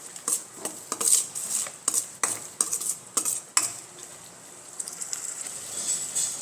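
A spoon stirs vegetables with turmeric, red chili powder, salt and coriander-cumin powder in a metal pan, scraping and clinking in steady repeated strokes over a faint sizzle, close and moderately loud with no talking.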